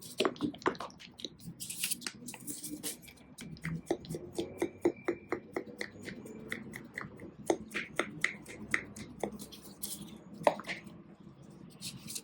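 Hair dye being mixed in a bowl for dark champagne blonde color, giving soft wet squishing and clicking strokes in an irregular rhythm, close and fairly quiet, with no talking.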